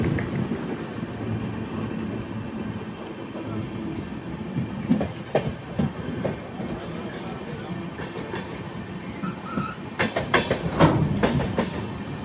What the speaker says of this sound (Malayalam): ഹൊസൂരിൽ നിന്ന് ഇതാ ട്രെയിൻ എടുത്തു